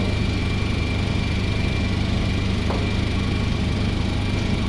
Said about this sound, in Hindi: जब आप ये ऑन करें तो उसको थोड़ा सा टाइम दें ताकि इसके अंदर को वैक्यूम पैदा हो।